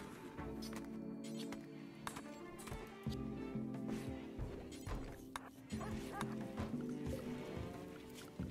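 A dog barks in short, repeated bursts close by amid a busy indoor room, with clattering and knocking noises and occasional voices in the background.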